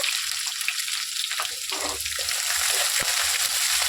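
Onions and curry leaves fry in hot oil for a Telugu amaranth leaf and garlic fry, a steady close sizzle with a brief splashy burst mid-clip and a few light clinks, no voices.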